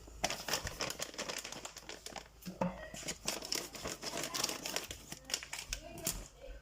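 A package of henna powder being cut open up close, with crinkling plastic and snipping and tearing sounds in quick irregular bursts, and a voice murmuring faintly underneath.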